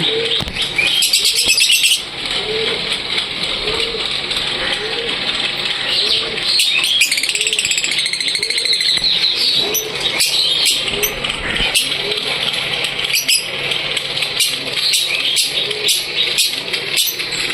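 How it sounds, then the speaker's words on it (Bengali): Lovebirds in a large master cage calling loudly, dense overlapping shrill chirps and squawks close by, with brief wing flutters mixed in throughout. "খুব জোরে জোরে লাভবার্ড পাখি ডাকে।"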